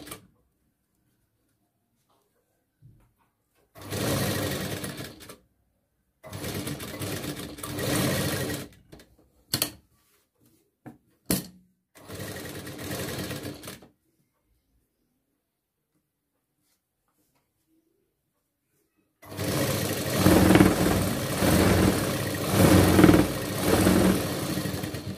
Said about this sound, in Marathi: गोल फिरवत चालायचं आहे, थोडीशी सुई उचलून घ्यायची आहे जेथे पण आपल्याला गोल फिरायचं आहे शिवताना